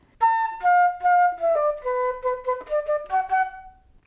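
A flute plays a short melodic measure, about a dozen clear detached notes stepping up and down, close and alone.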